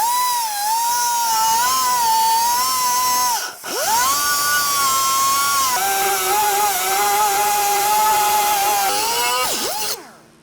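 A cordless power tool cuts metal on a 2019 Chevy 1500 pickup during a lift install, a loud high whine that shifts pitch under load, dips briefly once, then stops.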